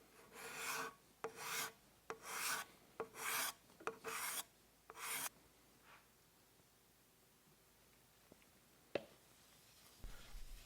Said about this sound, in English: I decided I will try and do a scraped finish. So I'm going to touch up a few spots